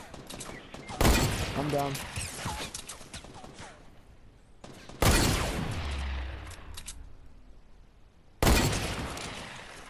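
Three loud bursts of Fortnite gunfire ring out near the start, middle and end, each a sharp broadband blast that decays quickly, with a brief spoken line between the first two shots.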